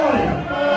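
Arena crowd at a Lions Den 2016 wrestling event jeering the official flag boy, a loud, continuous mass of voices swelling and dipping briefly with shouting mixed in.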